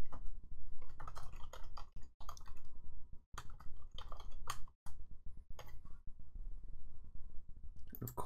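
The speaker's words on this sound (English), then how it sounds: "let's just go ahead and keep typing here" Rapid typing on a computer keyboard while coding a Material UI tabs component, keys clattering in close, dense bursts with a few brief pauses, no talking.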